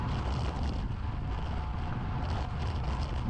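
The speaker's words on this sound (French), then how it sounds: "Il y avait pas un gros vent, mais il y avait quand même du vent ce jour-là." Wind buffets the microphone during a bicycle race in Brugelette, a steady low rumbling roar that fills the whole stretch without talk.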